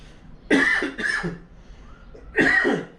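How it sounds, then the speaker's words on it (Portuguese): A person coughs in three harsh bursts, two close together and a third after a short pause, loud and near with no talk over them. "Desculpa a tosse, galera."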